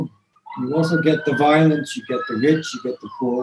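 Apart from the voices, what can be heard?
ambulance siren passing outside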